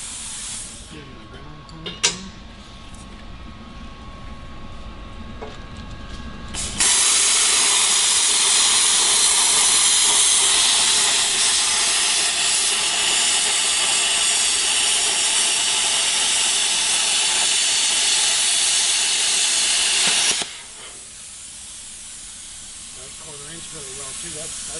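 Thermal Dynamics Cutmaster 40 plasma cutter at 40 amps cutting quarter-inch steel: a loud, steady roaring hiss begins abruptly, holds for about fourteen seconds and cuts off sharply, with quieter air noise before and after.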